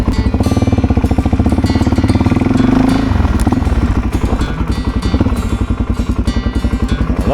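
A Suzuki DRZ400 dirt bike runs loud and close with a steady, thumping single-cylinder throb. The engine note rises briefly and then settles back into a rough, pulsing drone as the bike is ridden.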